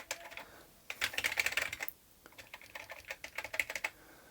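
Typing on a ZX Spectrum+ home computer keyboard during a restoration: two bursts of rapid, close key clicks separated by a short pause, with no talking.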